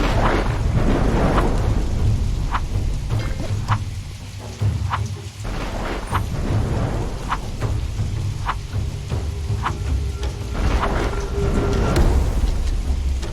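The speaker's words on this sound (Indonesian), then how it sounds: "Tapi apesnya hujan mulai turun." Steady heavy rain pours throughout with repeated rumbles and cracks of thunder, a loud, dense thunderstorm outside a cave entrance with no voices.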